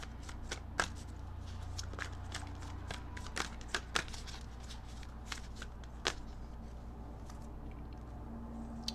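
Tarot cards being shuffled and drawn close by, with soft continuous riffling and a scatter of sharp card snaps and taps.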